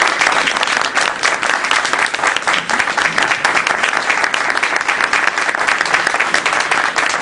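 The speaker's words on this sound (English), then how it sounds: "can we give our candidates another round of applause?" Sustained applause from an audience at a congressional candidates forum, dense and steady clapping filling the room for the full stretch without pause.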